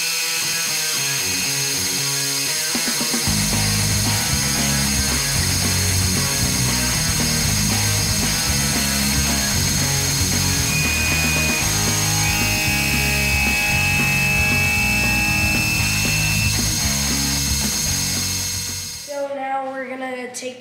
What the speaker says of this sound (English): So I've got my piece all chucked up in the lathe.